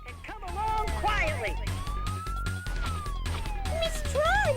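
A police siren in the Tron Bonne video game wails with rising and falling sweeps, loud and close, under game music and effects.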